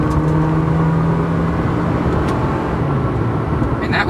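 A 2010 Toyota Corolla S accelerating under manual gear control, heard from inside as a loud, steady engine drone and road roar that holds throughout.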